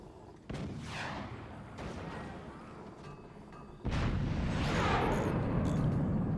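Howitzer artillery fire in a video game battle: a sharp loud firing boom with a rumbling tail, then a fainter shot, and later another heavy blast followed by sustained, dense rumble.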